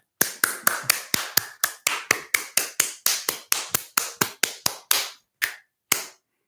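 A brisk, even run of about twenty sharp taps close by, slowing into a few separate claps at the end, with no talking.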